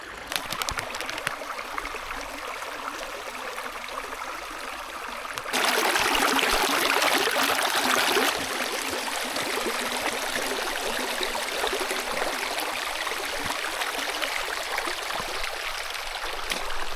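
Stream water runs steadily on Dartmoor as a water filter is topped up, a constant close trickle and gurgle that swells to a louder, brighter rush for a few seconds midway before settling back.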